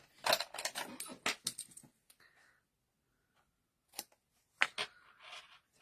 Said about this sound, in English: I'm just going to snip that off with my scissors.